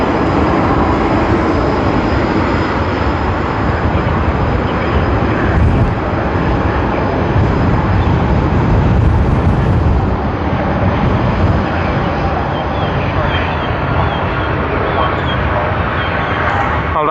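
An airliner departing Sydney Airport for Brisbane gives a loud, continuous jet roar that fills the whole stretch, heavy and close, with faint voices underneath.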